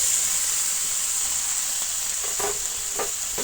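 Chopped onion, ginger and garlic are added to hot oil with chickpeas over low-medium heat, producing a loud, steady frying sizzle with a few stirring knocks toward the end.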